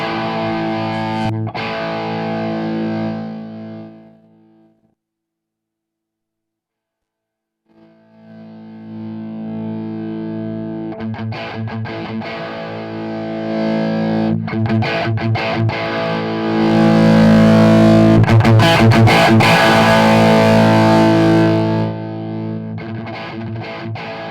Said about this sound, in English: Right, let's test a guitar.